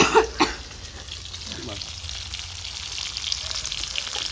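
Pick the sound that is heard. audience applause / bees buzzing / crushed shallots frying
crushed shallots frying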